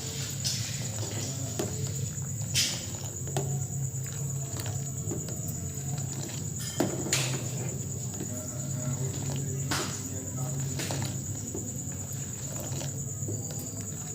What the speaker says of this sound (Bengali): সারাদিন বৃষ্টি পড়ছে